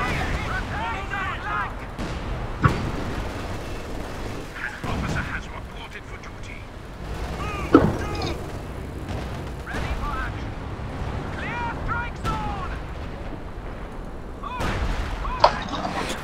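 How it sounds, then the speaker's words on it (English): Artillery barrage in the video game Company of Heroes 2, a 4 vs 4 multiplayer match, with scattered booms and gunfire-like blasts and a few sharp impacts, all running under steady commentary talk. "Artillery barrage incoming here."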